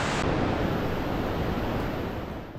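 Deafening roar of a large river in rural São Paulo state, a steady broadband rush of churning water close and loud, unbroken throughout and slightly fading at the end.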